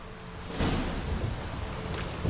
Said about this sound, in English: It's raining, it's dark.